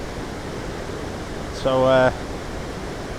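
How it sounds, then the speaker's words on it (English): Rhiwargor Waterfall in mid Wales, a high drop of over 200 feet, gives a steady broad rush of falling water throughout, briefly under a single spoken word. "that's Rhiwargor Waterfall right there. Very high drop waterfall."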